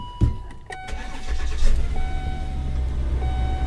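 An old Volvo car being started with the key after sitting for years: a brief starter crank, then the engine catches and settles into a steady idle close by, with dash chimes ringing over it and no talking.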